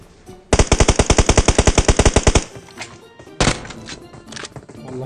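An automatic rifle in PUBG Mobile fires a long rapid burst of evenly spaced shots, loud and close, followed after a short pause by another sharp shot and a scatter of fainter thuds and cracks.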